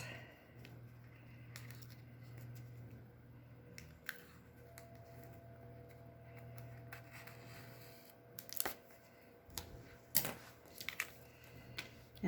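Halloween cardstock being cut for a Stampin' Up! cat punch card, with faint scattered snips and clicks, then a few sharper crisp cuts close by near the end, no talking.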